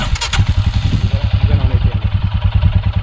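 A motorcycle engine, started by pressing the remote key twice, idles nearby with a steady rapid pulsing thump and light mechanical clatter throughout.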